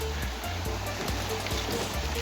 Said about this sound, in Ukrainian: Добрались ми на потік.